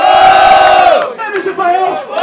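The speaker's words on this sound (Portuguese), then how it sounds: "Então faz barulho que gostou da rima no freestyle do MC Fael!" A crowd at a street rap battle in São Gonçalo roars and shouts in approval, a loud sustained cheer that breaks into scattered yells and chants.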